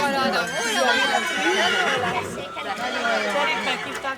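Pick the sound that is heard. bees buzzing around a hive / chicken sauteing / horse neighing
horse neighing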